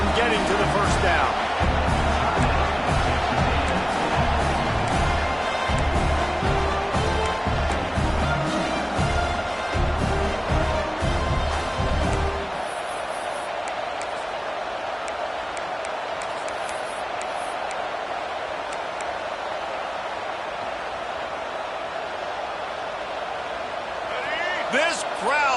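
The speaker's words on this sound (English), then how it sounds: "This crowd busting the decibel meter and trying to will a fourth down stop" Loud stadium crowd roars at a college football game as fans push for a fourth down stop, the dense din swelling under a play-by-play commentator's voice, then easing to a steadier hum in the second half.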